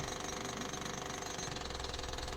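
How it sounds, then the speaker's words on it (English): A jackhammer breaks rock while digging a tunnel about eleven feet deep, a steady, dense rattling hammering that runs continuously and alone throughout. "I thought I'd go over them now while you're watching me jackhammer away."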